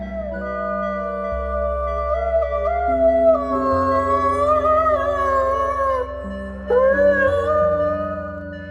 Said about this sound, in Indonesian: Mereka menggunakan lolongannya yang khas sebagai cara yang efektif untuk menandai